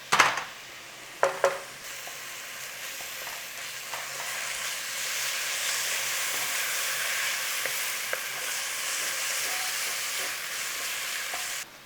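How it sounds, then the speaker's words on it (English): Garlic and ginger sizzle steadily in a pan over a low flame for a home-style spinach chicken curry, with a few sharp stirring clinks near the start before an even, continuous frying hiss. "Nice little stir in. Cook out the rawness of that garlic ginger."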